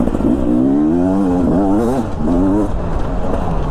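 A 2022 Beta enduro dirt bike engine revs and lugs steadily at close range on a wooded trail, its pitch rising and falling in repeated swells with no talk over it.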